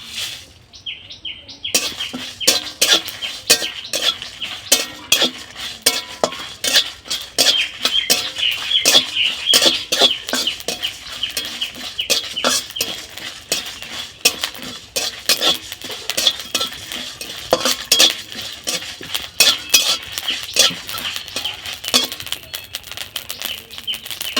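Coriander, whole cumin and five-spice roasting with dried chillies in a dry pan, stirred by a metal spoon in rapid, irregular scrapes and clinks, close and continuous.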